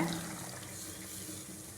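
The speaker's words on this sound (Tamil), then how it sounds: "தண்ணி ஊற்றிக்கோங்க" A steady, gentle stream of water runs continuously as it is poured into a pot of drumstick sambar with cooked lentils, fairly quiet with no talking.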